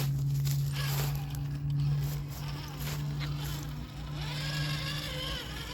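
A TRX4 RC truck with a Hobbywing 1080 ESC driving slowly outdoors: a steady, thin electric motor whine runs throughout, with light scraping and rustling from the terrain.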